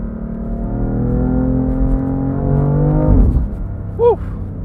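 A BMW F80 M3 CS with a dual-clutch gearbox accelerates hard. The engine drone climbs steadily and loudly, then drops away abruptly as it lifts off, followed by a brief whoop.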